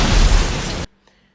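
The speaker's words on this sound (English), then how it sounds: "they witness the plane explode." A loud, roaring plane explosion blast in the film Final Destination rumbles for most of a second, then cuts off abruptly to near silence with a faint click.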